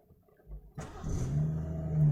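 A BMW 440i xDrive engine starts with a short crank, catches and settles into a loud, steady idle with a rising rev, close up with no talk.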